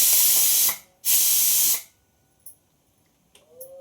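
Water poured into hot butter paneer masala in a pan bursts into two loud, close steam hisses, each under a second long, followed by near silence with faint clinks.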